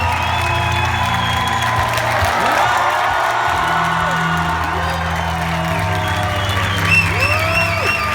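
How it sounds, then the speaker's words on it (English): A large theatre audience at an interview event claps and cheers in a standing ovation, a continuous roar of applause with whoops and shouts rising through it, while a few voices and tones sound faintly underneath. "Je vous demande donc de faire effectivement un vrai tonnerre d'applaudissements, voire une standing ovation pour Jamie Lee Curtis"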